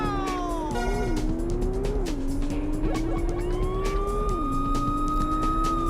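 A police siren in the PlayStation racing game Porsche Challenge wails, rising and falling steadily over a constant engine drone, with sharp clicks and crackles scattered throughout.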